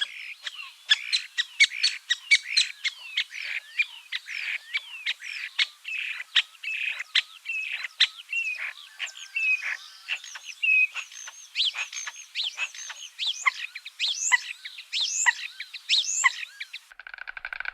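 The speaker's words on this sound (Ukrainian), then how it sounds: "Шпак." Common starling singing alone, a long, busy run of rapid clicks, whistles, rattles and croaking chirps repeated in quick bursts, fairly close and clear.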